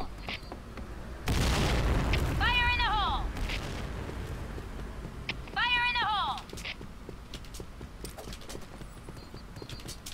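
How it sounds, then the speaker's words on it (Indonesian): Explosive blasts from bombs in a ninja-style video game, a loud broadband burst around the second mark with another heavy hit later, mixed with game effects and tonal chirps over steady background noise. "Ini pakai bom ya? Oh, ada bom"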